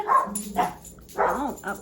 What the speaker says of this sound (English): I'm getting a bark alert right now from my Furbo.